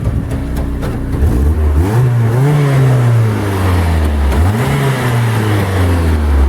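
A car engine revs up and down through its exhaust, rising and falling twice over a steady low rumble, close and loud.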